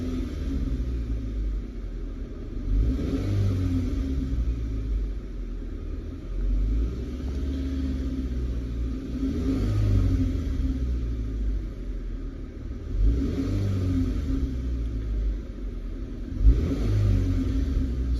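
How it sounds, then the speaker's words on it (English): A car engine on an emissions check with a sensor unplugged, idling with a deep steady rumble and revving up several times as the throttle is blipped, each rev swelling and falling back, close and alone. "let's see what happens when we blip the throttle"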